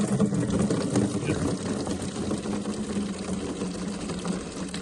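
Gasoline drains from a Suzuki DR 200 motorcycle in a steady, continuous trickling rush close by. Someone talks over it.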